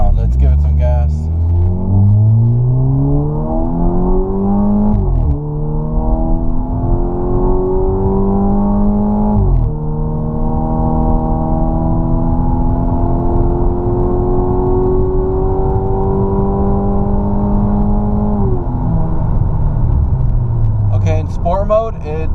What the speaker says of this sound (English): And now let's give it some gas.